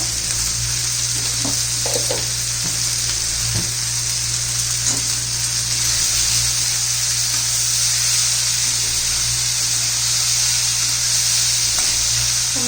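Peas and tomato sauté in a pan with a constant bright sizzle and hiss, close up and steady throughout. Faint stirring knocks sit over a low hum, with no voices.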